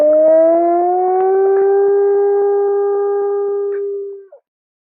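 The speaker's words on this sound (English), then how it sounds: "And if you slow that dolphin whistle down about 30 times," Dolphin whistle slowed about thirty times into a long, low, siren-like tone that rises gently then holds steady for about four seconds before cutting off, loud and alone.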